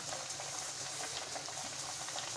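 Potato puri deep-frying in hot oil on a normal flame, a steady dense sizzle and bubbling hiss running continuously at close range with no talk.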